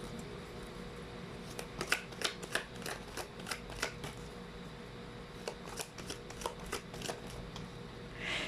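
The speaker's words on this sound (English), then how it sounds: "Let's pull up another set of cards here." A deck of tarot cards is handled and shuffled: quick clusters of soft card riffles and flicks, close and quiet, broken by short pauses.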